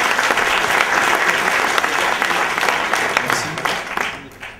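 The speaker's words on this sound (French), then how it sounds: "Bravo à Conviction, on peut les applaudir." An awards ceremony audience gives loud, dense applause for a prize-winning company, a sustained, even wash of many hands clapping that tapers slightly at the end.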